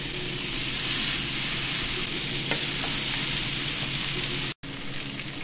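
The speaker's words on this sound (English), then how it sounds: "we got the bacon sizzling here" Bacon strips sizzling on a griddle at about 300 to 350 degrees, a loud, continuous crackling fry with steady hiss and small pops, close up and with no one talking.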